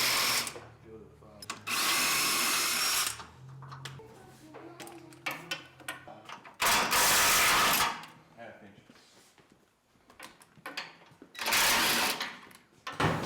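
A power tool loosens shock bolts on a Jeep Wrangler during a lift kit install, whirring in several loud bursts separated by clanking and shuffling from the work.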